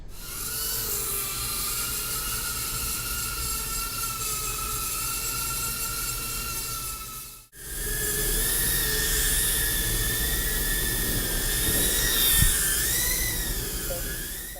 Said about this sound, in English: I'm going to play just a little bit of sound of this flying around inside with the original props, and you can hear just this kind of rattling